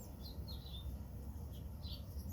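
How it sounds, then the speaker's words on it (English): Morning birds chirping, a few faint, thin tweets scattered over a low, steady outdoor rumble, distant and quiet with no talk. "I hope you've had fun watching the birds this morning"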